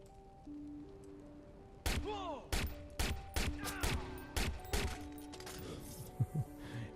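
Gunfire from the video game Watch Dogs Bad Blood cracks out in a string of about ten sharp, loud shots at uneven intervals, each ringing briefly over a low game soundtrack.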